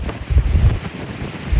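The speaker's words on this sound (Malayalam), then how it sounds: "നല്ല കാറ്റ്." Strong wind buffets a small boat out at sea, a steady low roaring rush with gusty swells and no voices over it.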